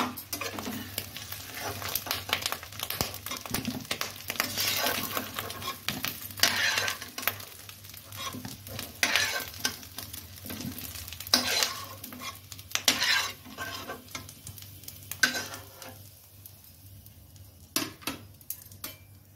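Fish roe frying and being stirred in a pan, a steady close sizzle broken by repeated scraping stirs and occasional utensil clinks, with no one talking.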